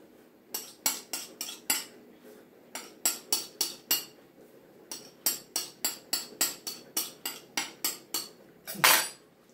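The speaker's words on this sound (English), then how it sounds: "pick up your knife and with the back of your knife trim off the excess" Metal knife back scraping and tapping around the rim of a tart tin as excess pastry is trimmed for a rhubarb tart, a quick series of sharp close clinks in steady bursts, ending in a louder scrape.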